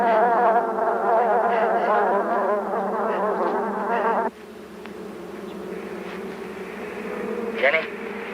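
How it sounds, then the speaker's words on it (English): Swarm of bees buzzing loudly and densely around a car for about four seconds, then cutting to a quieter, muffled hum with a brief sharp sound near the end. "The bees are all over the car."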